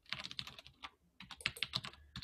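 Fingers tap on a computer keyboard in bursts of quick keystrokes. The typing is close and clear, with one short pause and no talk over it.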